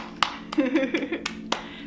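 A few hand claps during a qigong session, sharp and close, spaced irregularly across two seconds, with a soft voice heard between them.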